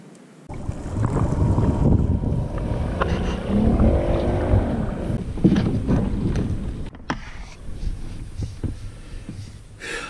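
Wind buffeting outdoors during a kayak fishing trip, heavy low rumbling gusts against the microphone that swell and ease, dropping off somewhat near the end.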